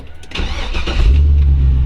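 The LS1 V8 under the hood of a 1946 Ford Deluxe convertible resto-rod cranks briefly, then fires up close and loud. It settles straight into a deep, steady rumble.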